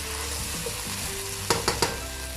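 Soft sizzling in a pot as boiled peas and fried potatoes are stirred into sweet rice, followed by three quick metallic taps of a spoon against the pan.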